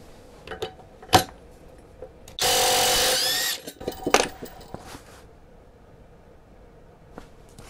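Topshak TS-PW3 cordless impact wrench running at maximum power in one loud burst of about a second, surrounded by quiet clicks and handling knocks.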